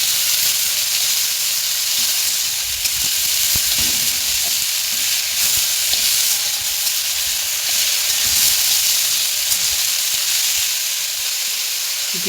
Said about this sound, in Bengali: কড়াইয়ে দিয়ে দিলাম সবজি